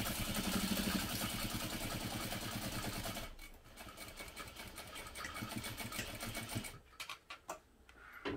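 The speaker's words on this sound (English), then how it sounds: "And then I'm going to sew using 1/2 inch seam allowance" A domestic sewing machine stitches a 1/2 inch seam in fabric pieces pinned right sides together, running steadily and close, then pausing and restarting in short bursts near the end.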